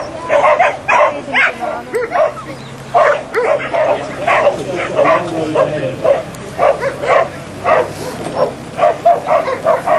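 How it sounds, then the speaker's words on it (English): Mountain rescue search dog barking in repeated short bursts, close and fairly loud, with voices of people talking in between. "the dog will be keen to go find her again and do the same system, the same sequence, to bark and get a reward"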